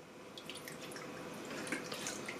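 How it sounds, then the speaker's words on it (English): Water poured from a container into the reservoir of a Keurig Mini single-cup coffee maker, a soft steady trickle with faint splashes, quiet and close. "So we've got some water here. So we're just going to fill the reservoir."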